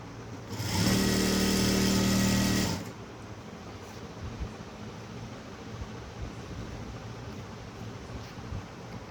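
A domestic sewing machine stitches a blouse in one steady, fast, close whirring run of about two seconds, then stops, leaving quiet room noise.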